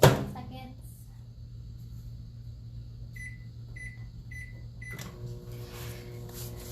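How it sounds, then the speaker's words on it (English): A kitchen microwave oven runs with a steady low hum and fan drone, starting after a brief clunk. A few short beeps come near the end, followed by a door thump and a rattle. No one speaks. "Oh, the microwave is not quiet."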